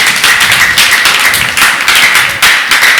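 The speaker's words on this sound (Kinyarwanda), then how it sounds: "komera imana amashyi" A church congregation claps hands together in a dense, loud, continuous patter that swells in waves, with no talk over it.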